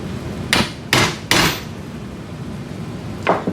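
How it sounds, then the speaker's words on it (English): Three sharp, close hammer strikes in quick succession drive a radial implant stem into a sawbones model with an inserter during a wrist replacement technique, followed by a softer fourth tap after a pause. "Insert bone cement and impact the radial stem into its placement."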